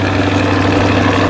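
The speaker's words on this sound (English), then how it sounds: "let's get a cold start on it. Let's do a cold start." A 2025 Corvette ZR1 engine just after a cold start, a loud, close, steady low idle rumble running alone without a break.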